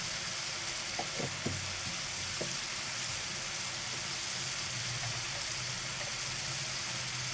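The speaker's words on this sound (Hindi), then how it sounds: "2 मिनट मिर्चों के साथ बुनाई करेंगे" Chicken keema roasts with green chillies in a pan, giving a constant broad sizzle with a few light stirring knocks early on.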